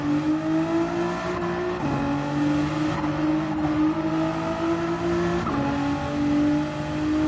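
Race car engine in a sim racing game pulling away and climbing through the gears, rising whine repeatedly resetting at each shift, loud and continuous with faint tire noise, no voices.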